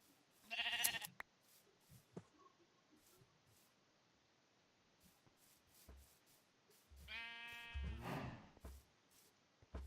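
Sheep in a video game give two distinct bleats, one short near the start and a longer, louder one near the end, with faint clicks and rustles between them in a quiet setting.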